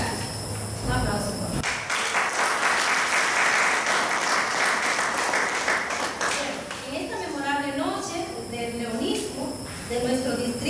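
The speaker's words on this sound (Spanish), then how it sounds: "Un aplauso." Applause from an audience at a Lions Club district accountability ceremony, a broadband wash of clapping lasting several seconds before a voice and other sounds take over.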